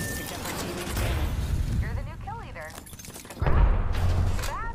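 Rapid weapon fire in Apex Legends: fast bursts of crackling shots with metallic clatter, louder in a final sustained stretch, mixed with game effects and a voice talking over part of it.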